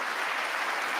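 A crowd at the State of the Union applauds and cheers in a dense, steady wash of clapping that fills the whole moment, heard from a distance.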